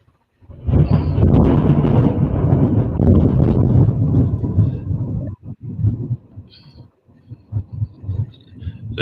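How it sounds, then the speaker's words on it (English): Low, rolling thunder rumbles loud and sustained during a rainstorm, then breaks into shorter uneven bursts and fades. "the rain's slowing down. It sounds like the thunder, lightning's still going."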